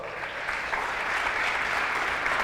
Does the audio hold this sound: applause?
yes